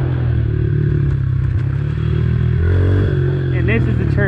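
A pit bike motorcycle engine hums steadily at a dirt track, low and continuous beneath a person's talking, with some clattering near the end.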